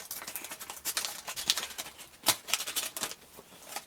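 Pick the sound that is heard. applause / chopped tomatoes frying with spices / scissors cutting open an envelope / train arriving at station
scissors cutting open an envelope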